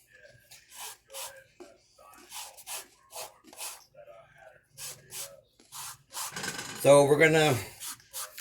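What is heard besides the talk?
zesting an orange for cranberry sauce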